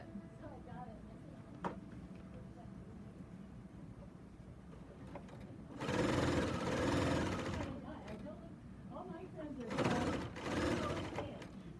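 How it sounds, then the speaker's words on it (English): Serger machine stitching binding onto a quilt, running in two steady whirring bursts at close range, one long and one shorter, with quiet handling between them. "I'm going to sew to about here, and I'm leaving about 10 or 12 inches here"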